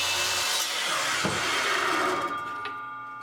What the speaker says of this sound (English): So I cut the stem to length.